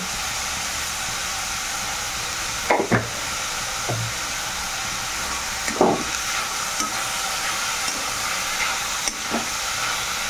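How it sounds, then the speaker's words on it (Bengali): Nolen gur sugar filling with a little dried fruit and sugar is stirred in a pan, with a steady low sizzle and hiss and a few soft scraping strokes of the spoon at irregular intervals. "ভালো করে এইভাবে নেড়ে চেড়ে নামিয়ে নেব"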